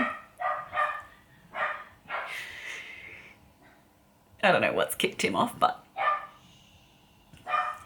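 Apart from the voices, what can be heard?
puppy barking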